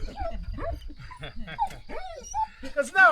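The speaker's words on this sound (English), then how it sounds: "We found out she howls when I beep the horn." A female dog at a Portuguese stone house under restoration howls and whimpers in wavering, rising and falling tones after a car horn beeps. The sound is close and repeated, with a person talking over it.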